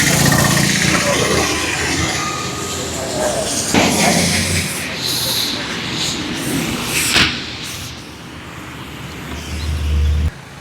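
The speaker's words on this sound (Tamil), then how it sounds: "எம்டிடி இன்ஜின் தான் சூப்பராக இன்ஜின் நல்லாயிருக்கும்" A vehicle's MDT engine runs steadily at idle nearby, joined by a few knocks and thumps, with a voice talking over it at times.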